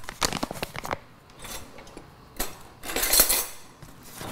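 A spoon stirs an energy tonic of water and almond milk in a cup, a run of quick clinking taps against the side followed by a couple of brighter, louder bursts of scraping and chinking, close and without talk.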